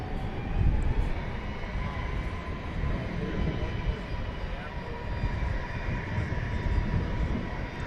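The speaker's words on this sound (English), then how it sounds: "here's that UPS 767 just ambled across runways 18 right and left, looking for its parking spot" UPS Boeing 767 taxiing across runways at DFW airport at night, a low steady engine rumble heard from a distance with a faint higher whine and murmuring voices.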